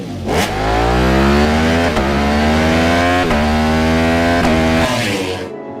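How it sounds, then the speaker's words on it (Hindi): A loud Ducati superbike engine revs hard and close, its pitch climbing in several surges before it cuts off abruptly. "सुपर बाइक्स में जो बात सबसे इम्प्रेसिव होती है वो है इनकी दमदार आवाज"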